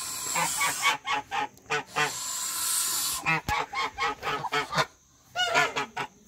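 A male goose guarding the nest entrance on a goose and duck farm honks in rapid, loud, close bursts, a long series of harsh calls broken by one brief pause before more follow.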